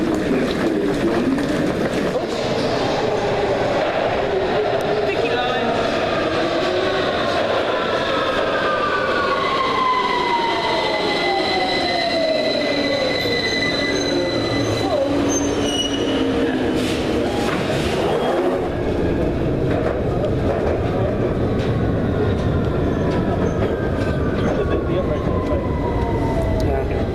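An underground train at a London Underground station platform at Victoria screeches and squeals in long rising and falling metallic tones over a constant rumble, loud and close, as it runs in and brakes.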